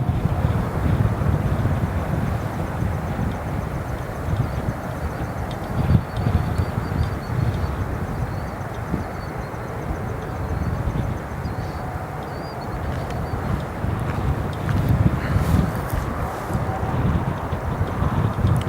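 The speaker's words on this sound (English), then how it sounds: "Couple aircraft coming on the center runway." Jets arrive at night on the center runway at Chicago O'Hare International Airport, producing a steady, broad engine rumble and roar that holds throughout with slight swells, heard from a distance outdoors with some wind noise.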